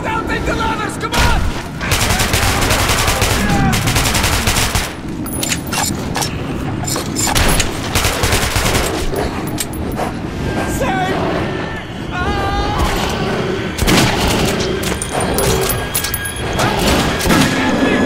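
Gunfire in Metro 2033 Redux, with loud bursts of shots and booms mixed with clattering and scraping through a chaotic fight, while shouting voices break in over the din.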